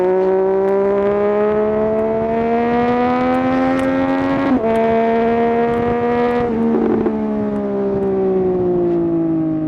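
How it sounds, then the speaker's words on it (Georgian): A motorcycle engine runs loud and close with a steady droning tone that rises and falls gently as the throttle shifts, with a couple of brief clicks and blips, and no voice over it. "რა თემბრიელი ხმა აქ ამ ბაიკს რა"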